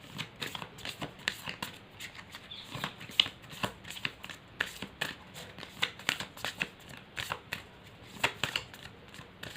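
Sacred Indian Tarot cards being shuffled by hand, a steady run of crisp riffling flicks and soft slaps close up, repeating in quick bursts throughout with no talk.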